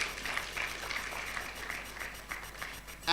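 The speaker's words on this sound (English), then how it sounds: "Please, a round of applause for him." Audience applause at a skills academy event, a steady moderate patter of clapping that holds for a few seconds and swells sharply at the very end.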